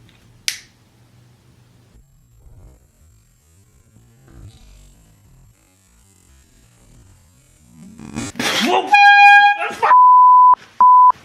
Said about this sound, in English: This is a air horn.